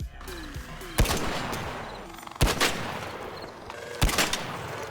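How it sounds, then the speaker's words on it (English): Heavy gunfire in the video game Arc Raiders, three loud, punchy shots spaced about 1.5 seconds apart, each with a booming tail, over a continuous background of game ambience and rumble. "Each shot feels weighty and visceral, especially when you're popping off a piece of this bad boy."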